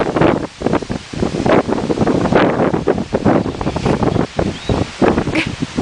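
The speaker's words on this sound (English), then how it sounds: "Here comes the wind." Strong gusts of wind on a blustery day buffet the microphone outdoors. The roaring, rumbling bursts rise and fall constantly, loud and close, with no speech.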